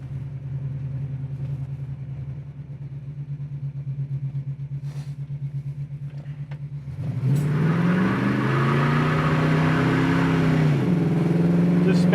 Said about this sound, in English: We'll go through the gears and see what she's got for power.